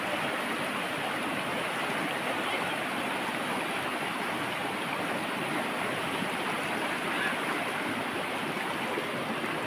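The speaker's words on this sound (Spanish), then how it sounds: "El río de la Lima." The La Lima river in Guerrero's Costa Chica flows with a steady, even rush of water, heard softly and continuously from nearby with no other sounds over it, just as rain begins.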